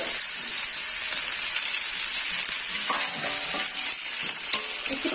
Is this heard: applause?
no